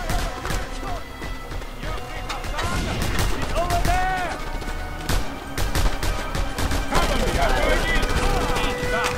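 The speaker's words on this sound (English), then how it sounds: "At least my SMGs tear through them" Submachine guns fire rapid bursts in Just Cause 2, crackling volleys mixed with other gunfire, crashes and game effects, loud and almost continuous with shouted voices in between.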